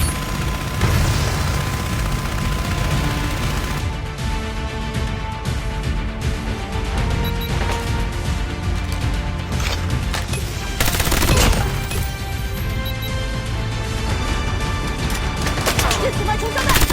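Sentry machine gun firing in a video game, dense rapid bursts of gunfire with booming crashes and explosions, loud and continuous across the whole stretch.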